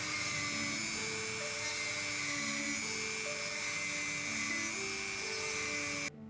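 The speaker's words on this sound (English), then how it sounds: "use the Dremel tool to create the dent to give this brick-like effect" A Dremel rotary tool whines at a high, steady pitch as it carves brick-like dents into a wooden dollhouse base made from an old cupboard, running continuously and close up before cutting off abruptly.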